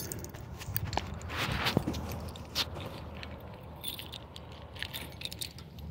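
A bunch of keys jangling and clinking close by in a few brief rattling bursts, then fading to quiet outdoor background.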